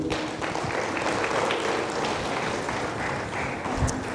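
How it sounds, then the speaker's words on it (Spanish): Church congregation at a thanksgiving service claps for the Lord, a loud, dense and continuous round of applause filling the space without a break. "démosle un aplauso al Señor"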